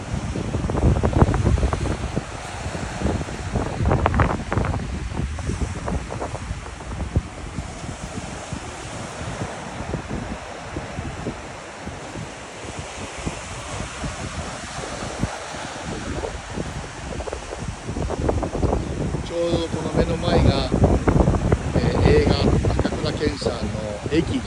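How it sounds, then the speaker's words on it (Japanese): Rough sea waves break on the coast at Mashike, Hokkaido, at dusk, a steady surf roar mixed with wind buffeting the microphone, swelling louder toward the end, with a person talking over it. "夕暮れの海でございます。"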